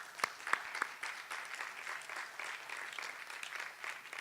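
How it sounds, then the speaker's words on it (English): Audience at a housing dedication celebration giving a short round of applause, opening with a few sharp individual claps and settling into steady, moderately distant clapping. "So let's give them a quick round of applause."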